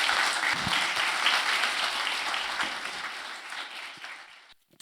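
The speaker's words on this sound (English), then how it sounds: "should we give her a round of applause?" A church congregation applauds as a guest makes her way up for an interview, giving dense, even clapping from many hands that fills the room before it fades and cuts off near the end.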